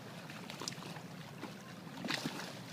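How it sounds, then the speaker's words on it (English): Boats pass on the Beargot River and send faint, soft splashing and lapping water across the surface, a low wash with a few brighter splashes near the end and no speech. "Good night to all the awesome boats that give us splashy water sounds to fall asleep to."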